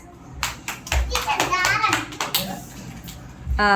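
Children clap together in a classroom, a run of quick, close, bright claps followed by children's voices talking.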